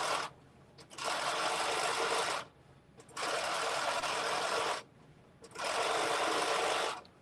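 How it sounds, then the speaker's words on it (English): Sewing machine stitching denim for a pair of jeans, sewing very close to the fabric edge: three steady runs of fast whirring stitching, each lasting a second or two, separated by short pauses, close and alone. "it literally doesn't even look like I'm sewing anything because it's so close to the edge"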